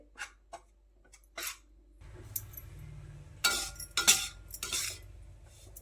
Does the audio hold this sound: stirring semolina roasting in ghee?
yes